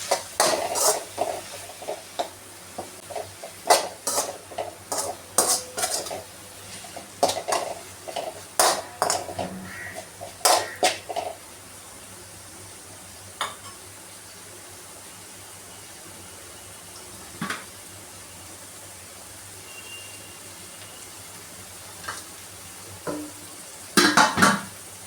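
Steamed vegetables and paneer being stir-fried in a pan for healthy fried rice, with a burst of frequent spatula scrapes and clinks early on, then a quiet stretch of occasional taps before a few final stirs.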